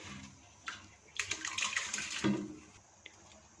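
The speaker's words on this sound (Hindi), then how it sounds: "इसके साथ ही दूसरे पैन में पानी डालेंगे।" Water pours into a second cooking pan for rice, a soft, fairly faint splashing stream that swells for a couple of seconds and then tapers off.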